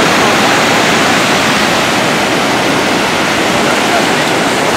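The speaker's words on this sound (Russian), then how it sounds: "Волны, а там серферы." Pacific Ocean waves at Tofino, British Columbia, Canada, where surfers are out, make a steady, loud, unbroken roar of surf with no distinct pauses throughout.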